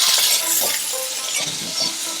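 Diced potato seasoned with salt and turmeric fries in mustard oil with a continuous close sizzle, while a utensil stirs through it, adding scraping and light metallic clinks.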